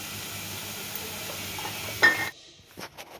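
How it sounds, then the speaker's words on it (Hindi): Crushed carrots frying in a pan, a soft steady sizzle that cuts off abruptly near the end, followed by a few quiet clinks of a utensil. "गाजर हल्का भून लेंगे ताकि एक स्मेल आता है ना वो चला जाए"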